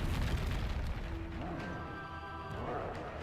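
A fire-blast spell goes off in a fantasy wizarding video game, a heavy crashing blast at the start followed by a fading rumble and shimmering tones.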